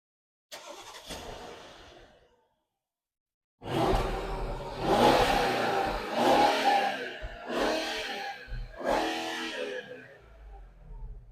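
A 2015 Mercedes S550 with a 4.7-litre biturbo V8 starts, then revs in several sharp blips, each throttle burst swelling and falling away, loud and close with short pauses between.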